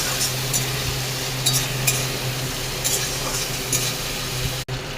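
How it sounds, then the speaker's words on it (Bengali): Spice masala for mutton curry is stirred and sautéed in a pan, a steady sizzle running throughout with scraping strokes of a spoon every second or so, close and moderately loud. "আমি অল্প একটু জল দিয়ে দেবো, দিয়ে মশলাটাকে ভালো করে কষাবো।"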